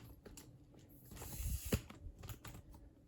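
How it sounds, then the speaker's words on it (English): Telescoping tripod extended to mount a J-pole antenna, giving a short run of faint close mechanical clicks and sliding ratchet-like rasps over about three seconds, with no voices. "So let me extend the tripod up here."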